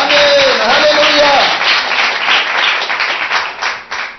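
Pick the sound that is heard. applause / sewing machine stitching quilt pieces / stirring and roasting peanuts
applause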